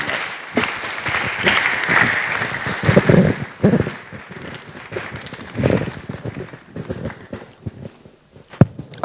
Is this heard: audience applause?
yes